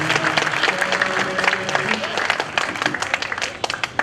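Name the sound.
loud audience applause welcoming a speaker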